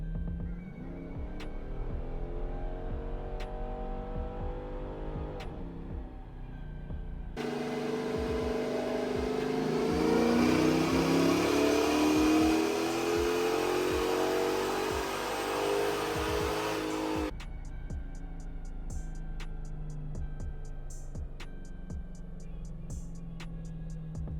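A 2014 Dodge Charger with a 5.7L Hemi V8 and FRP cam makes a loud third-gear pull: the engine climbs steadily under load for about ten seconds before an upshift near 6,200 rpm, then settles back to a lumpy cammed idle.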